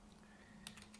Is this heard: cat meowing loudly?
no